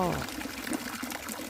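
Water pours from a pipe into a wastewater treatment pond at a fish pond, a steady soft trickle and splash heard close by in a short run.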